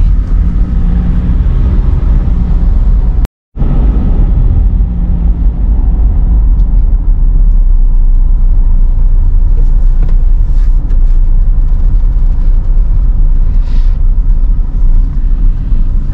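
A 2010 Toyota Innova diesel automatic with a 2KD 2500 cc engine drones steadily while driving, a loud continuous low rumble of engine and road noise from inside the cabin, broken by one brief dropout.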